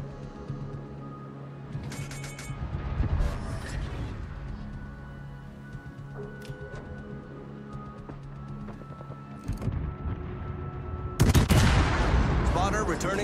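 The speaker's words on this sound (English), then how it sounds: "Concentrate fire on the enemy warship." Warship guns firing in World of Warships, a Hindenburg cruiser battle, with heavy booming salvos and rumbling blasts around 3 seconds and a loud burst near the end, over continuous engine and ambient game noise.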